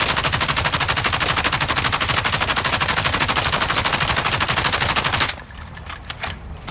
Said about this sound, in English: I'm not going to control the recoil at all, just going to fire until the magazine is done